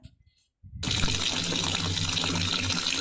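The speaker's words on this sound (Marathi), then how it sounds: "आंबे ना मी पाण्यात टाकते थोडा वेळ" Water gushes steadily into a container as Kalambi mangoes are put in to soak before making gulamba; after a brief quiet start, the loud, continuous pouring and splashing sounds close by.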